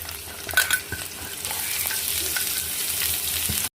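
Onions crackle and sizzle in hot ghee, with a few sharp stirring clatters at the start before a steady frying hiss.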